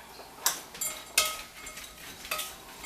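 Cranberries are stirred into a muffin batter with brown sugar, producing a few sharp clinks and scrapes of a utensil against a bowl at irregular intervals, close and moderately loud, with no talking.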